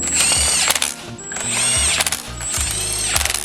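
A small 3/8 impact gun fires three loud, close bursts of rattling hammering with short pauses between them while tightening bolts on an RX-8 rotary engine build.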